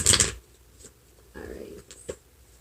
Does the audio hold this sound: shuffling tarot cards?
yes